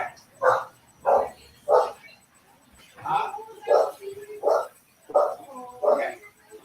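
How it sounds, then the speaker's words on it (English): Several dogs bark in a steady run of loud, close barks, about eight in quick succession, with some overlapping yips. "These damn badass dogs, man."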